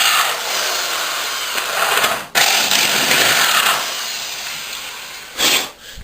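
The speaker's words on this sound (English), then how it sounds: "I'll probably drill these holes a bit deeper actually." A power drill whines steadily as it bores into material, with brief pauses between bursts of drilling.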